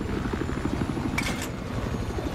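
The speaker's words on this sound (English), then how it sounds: "Attack chopper, Frank?" Attack helicopter in the Battlefield 4 video game, a steady loud rotor chop throbbing continuously with a brief sharp burst partway through.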